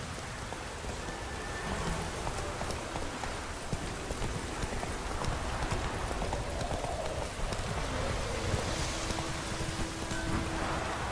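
The horse's hooves clip-clop steadily at a trot through continuous rain in The Witcher 3, close and moderately loud, with occasional distant thunder.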